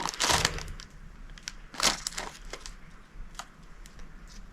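A dry, unfilled sugar donut is snapped in half with one hand, giving a quick crumbly crunch followed by a few softer crackles and bits of falling crumb, close and fairly quiet.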